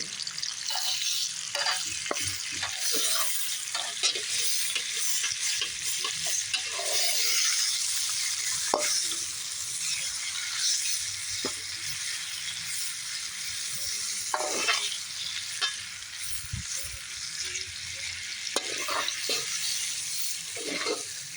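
Bacon frying in a wok over a steady, dense sizzle, with scattered crackles and spatters and occasional scraping stirs, close and continuous throughout.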